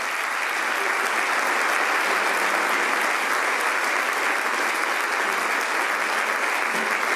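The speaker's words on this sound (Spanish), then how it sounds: "Así que pido un fuerte aplauso para todos ellos." Sustained, even applause from a concert audience, dense clapping filling the whole stretch without a break.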